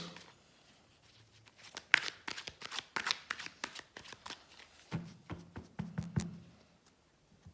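Tarot cards shuffled by hand in a series of quick riffling and tapping bursts, close and fairly quiet, with brief pauses between handfuls and no talking.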